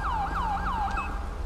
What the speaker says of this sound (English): I'm gonna turn off the siren